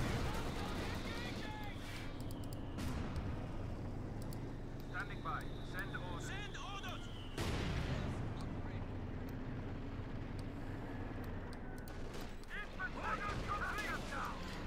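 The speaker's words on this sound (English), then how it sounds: "Panther versus Pershing, shot bounce." Panther and Pershing tanks trade cannon fire in a World War II strategy video game, with muffled booms and shots over steady battle rumble while a commentator talks throughout.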